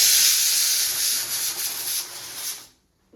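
A pressure cooker cooking dal lets off a loud, close, steady hissing whistle of steam that holds for under three seconds and then cuts off abruptly into silence.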